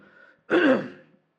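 A single short, rough cough bursts out close to the microphone after a moment of faint background noise.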